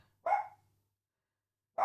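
A dog barks twice, sharp and fairly close, with a long quiet gap between the two single barks.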